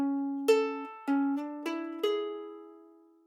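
Ukulele riff, five clean plucked notes at an even pace, each ringing briefly into the next, quiet and close, the last note left to decay.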